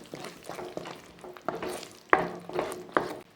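An egg mixture with chicken masala is stirred in a frying pan, with a soft sizzle under repeated scraping and clinking strokes of a spoon against the pan, close and faint, without talk.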